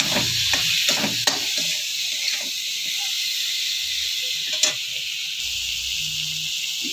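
Tomatoes fry with spices in a little oil, a steady hiss of sizzling broken by a few sharp scrapes and clinks of a utensil against the pan, close by with no talking.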